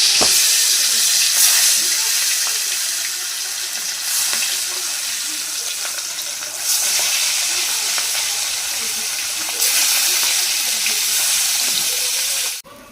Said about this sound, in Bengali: ইলিশ মাছের এপিট ওপিট হালকা লাল করে ভেজে নিয়েছি।